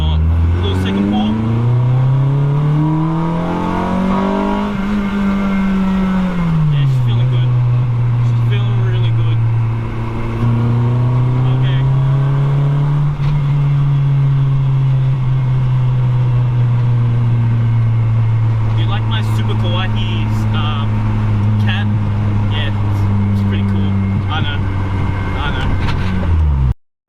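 A Honda Civic EG with a swapped B16 engine revving and pulling, a loud continuous engine note climbing and falling through the gears, close up and dominant throughout with no talk over it.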